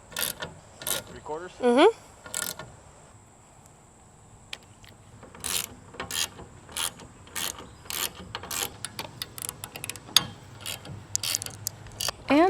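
A ratchet wrench tightens roof rack bolts on a Ford Transit van, clicking in repeated short runs of sharp ratcheting strokes with pauses between, close to the microphone, while a person speaks briefly.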